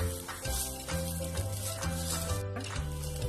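Pigeon pea beans roasting in a little oil in a pan give a soft, steady sizzle and faint crackle, low and continuous under a quiet background hum.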